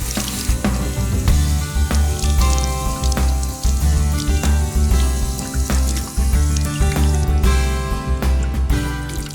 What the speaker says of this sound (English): And I'm going to just soak them in water.